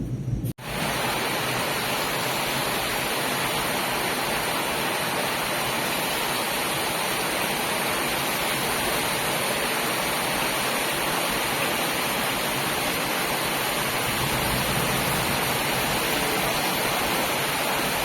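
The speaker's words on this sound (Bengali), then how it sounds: "বৃষ্টিটা বেশ জোরেই নেমে গেল," Heavy evening storm rain pours down in a steady, dense, broadband roar that fills the whole span after a brief opening, with no voices over it.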